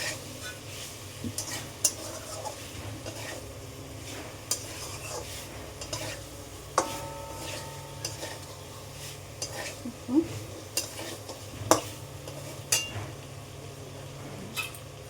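Spice masala frying in oil is stirred in a pan for a vegetarian pointed gourd dish, giving a steady low sizzle broken by frequent spoon scrapes and light metal clinks, with no talking.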